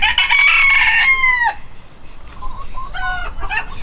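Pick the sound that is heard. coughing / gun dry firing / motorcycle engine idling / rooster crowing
rooster crowing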